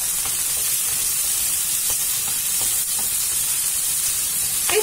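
Corn tipped into a hot oiled frying pan for quesadillas gives a steady, loud sizzle and hiss throughout, with faint stirring clicks and scrapes over the constant frying.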